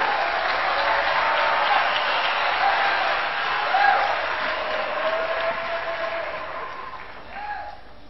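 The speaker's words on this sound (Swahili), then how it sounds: "Pige Bwana makofi." A church congregation applauds together at a gathering, sustained broadband clapping carrying on steadily with faint voices mixed in and slowly tapering toward the end.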